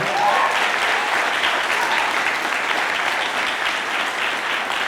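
Steady, dense applause from a church congregation honoring its leaders, loud and close throughout with no pauses and no speech over it.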